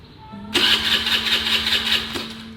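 A motorcycle engine starts during a riding lesson: the starter whirrs, then the engine catches and runs at a steady idle for a couple of seconds, close and fairly loud.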